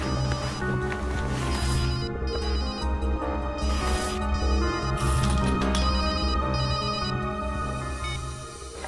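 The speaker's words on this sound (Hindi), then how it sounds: "फोन तो इस बैग में से बज रहा है।" A mobile phone rings from inside a bag, a loud, continuous tonal ringtone melody that carries on steadily for several seconds, close and without talk.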